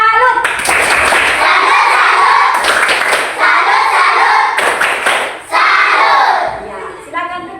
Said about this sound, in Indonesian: Kasih dulu tepuk salut.